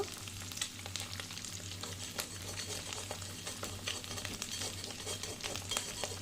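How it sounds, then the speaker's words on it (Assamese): Small fresh fish frying in hot oil in a pan: a close, steady sizzle with dense crackling and spitting pops, continuous throughout, with no voices. "এয়া মই ফ্ৰাই কৰি আছোঁ।"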